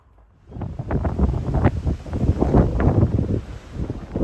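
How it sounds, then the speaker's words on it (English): Wind gusting and buffeting close against the microphone on a hot mountain trail section of the Appalachian Trail, a steady rough rumble with rising and falling gusts and no talk. "It's hot, but this wind really helps."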